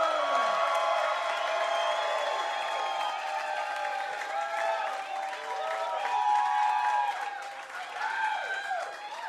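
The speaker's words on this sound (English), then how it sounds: "That's a lot of applause for a guy that wasn't trying up here, huh?" A comedy show audience gives Eddie Pepitone a long, steady burst of applause and cheering, dense clapping with scattered whoops sustained throughout, close and full.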